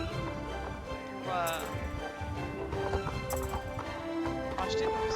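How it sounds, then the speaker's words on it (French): A horse's hooves clip-clop in a video game, a busy run of hoofbeats with a whinny, mixed with game music and someone speaking French over it. "apprenez à bien manier le cheval."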